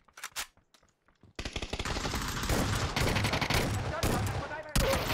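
Dense automatic gunfire from a shooting video game rattles in rapid, sustained bursts, preceded by a few scattered shots, loud and continuous with a brief pause near the end.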